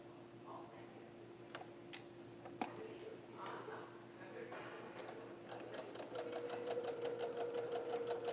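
A sewing machine stitches quilt block pieces together, starting with scattered clicks and handling noises, then settling into a quick, even run of stitches near the end.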